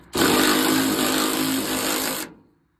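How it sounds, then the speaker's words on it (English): A power tool whirs at full speed for about two seconds with a steady high-pitched drone while removing a Ford Sunliner's radiator support, then cuts off and winds down quickly. "To speed up the process, we're going to use some power tools today"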